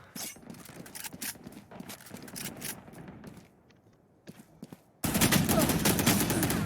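Gunfire in a shooter video game deathmatch on the Haven map: rapid clipped shots and footsteps in quick bursts, a brief lull, then a sudden loud, dense stretch of continuous firing to the end.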